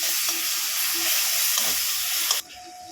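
Cumin powder, coriander powder and ginger-garlic paste fry in hot oil with a continuous hissing sizzle, a few soft scrapes of stirring over it, before the sizzle abruptly drops to a quieter level.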